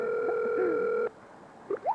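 An unanswered phone call's ringback tone sounds as a loud, steady electronic tone for about a second and then cuts off abruptly, followed by a few faint, brief chirps.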